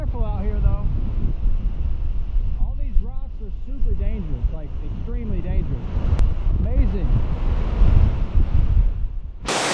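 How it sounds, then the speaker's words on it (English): Crabtree Falls roars with a constant low rush, mixed with wind buffeting the microphone, while a person talks over it. "this waterfall is crazy"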